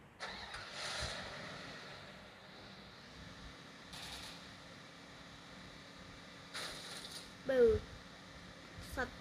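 A vehicle driven toward enemies in Garena Free Fire gives a low, steady engine hum that rises in a few louder bursts, with brief clicks and effects on top.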